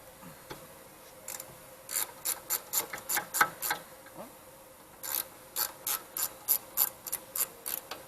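Ratchet working loose 17mm brake caliper bolts on a car, two runs of quick rhythmic clicking strokes separated by a pause, close and fairly clear, no talking.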